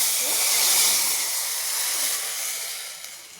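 Soup is poured into a hot cumin and mustard seed tempering, producing a loud, close burst of hissing steam that stays steady and slowly fades, with no speech over it.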